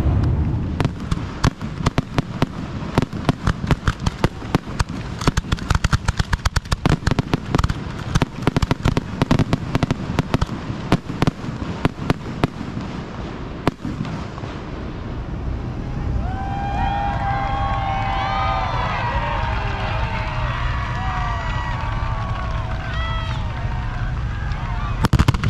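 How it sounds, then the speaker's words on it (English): Fireworks bang and crackle repeatedly at a sprint car speedway during an evening race event, dense rapid bursts for the first half, then a steady crowd murmur with people talking and cheering after the display ends. "They turned the lights off to do fireworks,"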